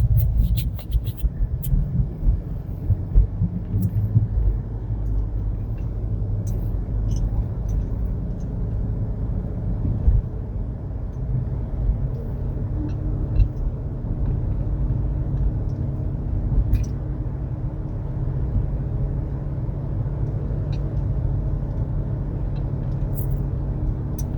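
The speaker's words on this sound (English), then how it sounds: "we're just steadily driving down Kamehameha Highway" Car cruising steadily along Kamehameha Highway in Honolulu, Oahu, heard from inside as a continuous low road rumble and engine hum with occasional faint clicks and rattles, no talking.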